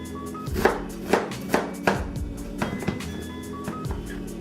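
Onions being chopped with a knife on a board: about eight to ten crisp, fairly close strikes at an uneven rhythm, louder at first and softening toward the end, with no talk.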